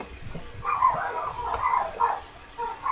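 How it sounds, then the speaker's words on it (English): Dogs bark and yip in short bursts, somewhat muffled and moderately near, rising and falling across a few seconds with no talk. "my dogs are barking"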